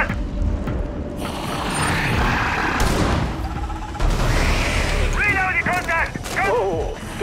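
Weapon reload in the video game Rainbow Six Extraction: a run of mechanical clicks and ratcheting clacks over a busy, noisy game background, with a few sharp metallic transients near the end.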